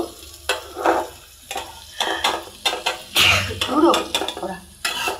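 Dal being fried and stirred in a pan, with repeated scraping bursts of a spoon against the pan over a low sizzle, close and fairly loud, in short rhythmic strokes.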